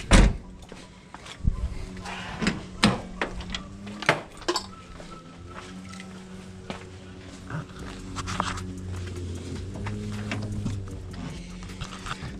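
Toyota Supra car door handled, sharp clunks and latch clicks scattered over several seconds, followed by softer rustling and a low hum, close to the microphone.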